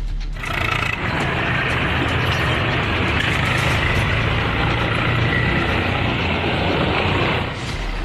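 A tractor engine used by sand-mining gangs in Agra roars steadily and loudly at close range, a continuous heavy rumble lasting the whole stretch.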